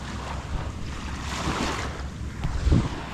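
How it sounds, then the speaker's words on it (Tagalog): Gentle sea waves wash at a beach shore under an overcast sky, a steady rushing wash with wind buffeting the microphone and a louder swell near the end, with no voices. "Ganito lang yung alon niya."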